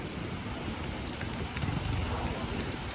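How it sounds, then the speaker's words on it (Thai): Strong wind buffets the microphone in a continuous, loud rush of broadband noise, with no talking and no letup. "ลมแรงมาก"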